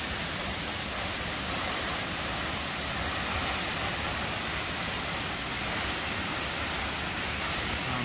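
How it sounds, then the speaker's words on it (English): A high waterfall in the hills near Boquete, Panama, gives a steady, broad roar of falling water, constant and fairly loud with no other sounds. "Look at this magnificent waterfall."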